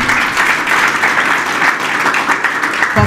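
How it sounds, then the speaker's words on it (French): Applause for a chef at a book launch in Mauritius, a steady dense wash of clapping from an audience that holds evenly throughout without speech. "je pense que chef mérite un grand applaudissement"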